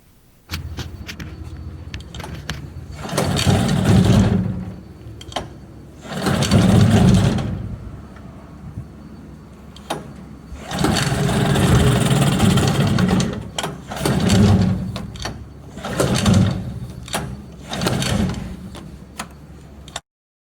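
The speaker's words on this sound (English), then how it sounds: "I took the Mercury out into the test tank, and I'm going to give her a pull and see if it'll start." A Mercury outboard motor in a test tank is pull-started again and again without catching: about six loud, rasping cranking bursts separated by brief pauses, with no sustained running.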